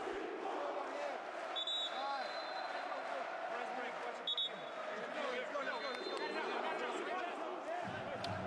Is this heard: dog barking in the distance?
no